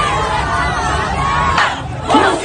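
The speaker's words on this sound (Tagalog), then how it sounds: "ano ba yung sigawan diyan?" A large crowd shouts and roars together at some distance, a dense continuous wall of voices with a few louder swells near the end.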